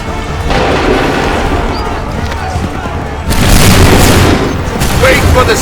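Musket volleys in Assassin's Creed 3, a dense booming barrage of shots that swells louder after a brief lull, with shouted commands mixed in among the gunfire.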